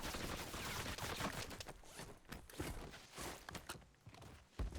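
Dense, continuous video-game gunfire in a squad battle, quiet and distant-sounding, with rapid overlapping shots and rattling bursts.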